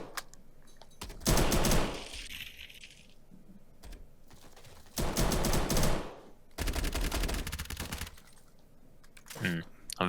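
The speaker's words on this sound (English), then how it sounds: "That was Weaz, it looks like, that was shooting there." Gunfire in a competitive first-person shooter match, several loud bursts of rapid automatic shots separated by quieter stretches, with commentators talking throughout.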